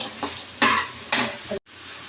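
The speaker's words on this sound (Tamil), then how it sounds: "அடுத்ததாக வந்து பாவக்காவும் சேர்த்து நல்லா வதக்கி விட்டுருக்காங்க" Bitter gourd being sautéed with tomato and onion in a kadai: three broad bursts of stirring and sizzle, each a scrape of spoon through the frying vegetables, ending in a sharp cutoff, with no voices.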